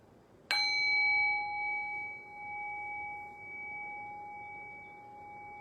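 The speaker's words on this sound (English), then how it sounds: "I will ring the bell, I will guide us into silence" A meditation bell is struck once, ringing out clear and close, then its pure tone sustains and slowly fades into quiet over several seconds.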